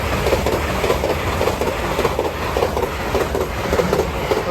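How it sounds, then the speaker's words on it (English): A London to Edinburgh express train rushes past a level crossing at Hett Mill, its wheels beating a steady, rapid clickety-clack over the rails at close range, loud and continuous with no voices. "Next service pass through is the London to Edinburgh service."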